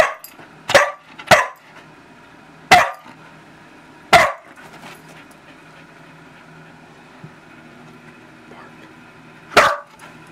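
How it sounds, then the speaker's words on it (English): A dog barks on command, giving five sharp, loud, separate barks: two quick ones, two more spaced a second or so apart, then a final bark after a long pause. Low background noise continues between barks. "I want you to bark 6 times"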